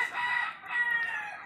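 Hens in a coop of about fifty birds cluck and call in a short burst, fairly close and moderately loud, with a brief dip midway and no voices.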